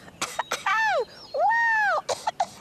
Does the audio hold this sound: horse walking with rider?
no